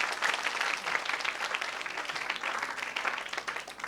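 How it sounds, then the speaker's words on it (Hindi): Steady audience clapping fills a Bhopal Ravindra Bhawan auditorium at a Sanskar Sena school event honouring singers, dense and sustained for the whole stretch with no talk. "जोरदार ताली होना चाहिए।"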